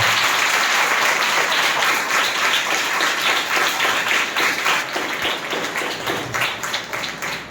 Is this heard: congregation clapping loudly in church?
yes